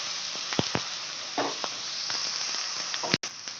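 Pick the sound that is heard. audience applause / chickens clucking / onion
onion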